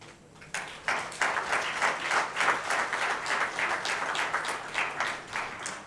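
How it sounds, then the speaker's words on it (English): Audience at a foundation event applauding The Block, a moderate crowd of clapping with distinct rhythmic bursts, rising after a quiet start and holding steady. "please give a big round of applause to the block"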